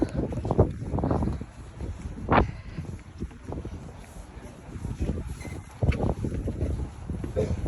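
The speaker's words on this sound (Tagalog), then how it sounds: "Mahangin ngayon." Gusty wind blows outdoors in Skagway, Alaska, rumbling across the microphone in uneven bursts, with faint voices and background activity beneath.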